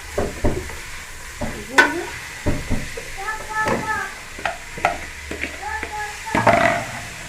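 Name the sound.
stirring cabbage frying in oil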